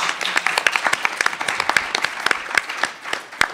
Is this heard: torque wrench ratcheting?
no